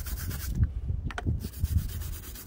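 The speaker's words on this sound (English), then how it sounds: "So you just kinda reach in, scrub out some of those areas." A brush scrubs inside the dirty engine bay of a BMW E30 during restoration, giving steady close rasping strokes in a repeating back-and-forth rhythm, with no voices.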